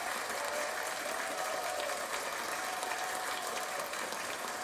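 A church congregation applauds for the Lord in a dense, continuous wash of clapping that holds steady and loud for the whole stretch, with no pause or break.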